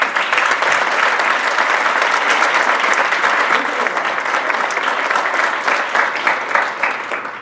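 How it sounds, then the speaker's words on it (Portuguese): Sustained audience applause at a São Paulo DiaTipo typography event in 2013, dense and steady for the whole stretch as a speaker is welcomed to the stage, with no voice rising above the clapping. "Por favor, palmas."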